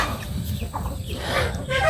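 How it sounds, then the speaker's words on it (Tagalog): Chickens cluck and murmur close by, several laying hens overlapping in short irregular calls against farmyard background noise. "Kini atong mga manok"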